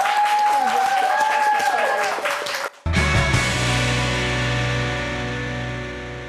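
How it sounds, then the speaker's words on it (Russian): A team on a televised quiz show applauds. After a stretch of talk, a sudden burst of steady clapping fills the rest of the clip, loud and continuous, with a tonal studio sound running underneath. "команда Арины вам сейчас должна аплодировать."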